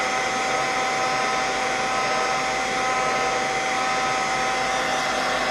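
Heat tool warming a stubborn wooden rubber stamp to release it: a loud, steady blowing whir with a constant fan tone, close and unbroken throughout.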